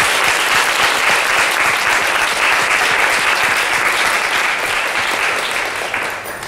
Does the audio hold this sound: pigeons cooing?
no